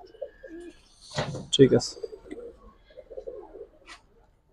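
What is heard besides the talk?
giribaz pigeons cooing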